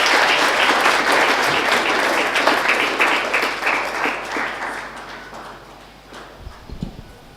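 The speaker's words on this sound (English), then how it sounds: "May we please give him a round of applause." Audience applause at a book discussion event for Gift of the Givers, loud, steady clapping from a crowd that gradually thins and fades out.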